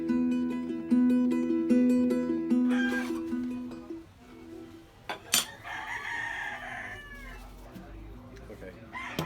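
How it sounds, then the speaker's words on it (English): Chickens and a rooster in a rural farm setting in Cuba's Viñales Valley, with a crowing call and clucking up close, loud against a quieter outdoor background. "loads of chickens everywhere there."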